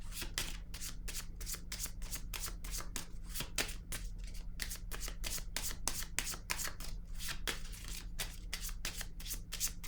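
Tarot cards are shuffled by hand in a fast, steady run of crisp riffling snaps, close and continuous, with no voice over them.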